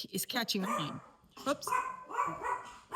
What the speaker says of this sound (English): Pomeranians, they bark.